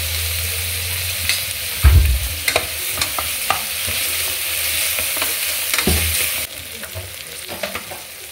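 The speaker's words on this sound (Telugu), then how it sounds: "బాగా వేగిన తర్వాత జింజర్ గార్లిక్ పేస్ట్, ఇది కూడా పచ్చివాసన పోయేంత వరకు వేయించుకోవాలండి" Ginger garlic paste fries in a pan for mutton bone soup, with a steady loud sizzle, a low hum and scattered spoon scrapes and knocks, one heavier thump early on; the sizzle drops in level toward the end, and nobody speaks.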